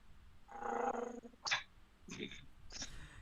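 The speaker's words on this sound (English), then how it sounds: "I can hear the dog. It's picking up on the mic." A dog growling close to a microphone: a sustained low rumbling growl, then a few sharper yips and whimpery vocal bursts, fairly loud and near.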